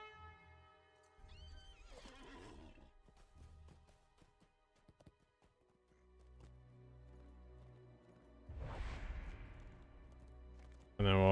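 A war steed horse in the online game LOTRO neighs and whinnies twice, once early and again louder near the end, with muffled thuds and some background game noise in between.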